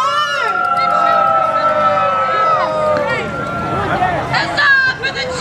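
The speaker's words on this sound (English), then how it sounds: "I'll get you to cheer in 3, 2, 1, go!" A crowd at a medieval fight show cheers on cue, with loud sustained whoops and shouts from many voices close by. The cheering swells and breaks into scattered yells near the end.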